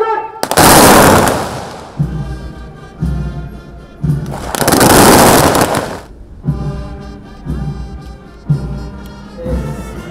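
A ceremonial gunfire salute at a police medal event, with sustained loud volleys separated by quieter stretches and echoing rumble, heard at close range.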